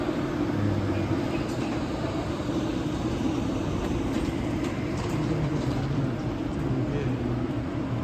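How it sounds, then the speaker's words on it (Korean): A steady rumbling roar of a Korail Nuriro train rolling into Gangneung Station, continuous and fairly close, with low droning tones holding throughout and no voices. "근데 누리로 열차 하나 들어온다"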